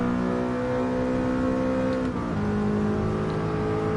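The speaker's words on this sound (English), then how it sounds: "this car actually does sound pretty cool for an R8" An Audi R8 in Gran Turismo Sport holds a loud, close engine drone with a steady tonal whine, briefly dipping and shifting pitch midway before settling at a lower steady rev.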